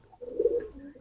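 A domestic pigeon coos softly at close range, a brief low murmuring call lasting about a second with no other sounds around it.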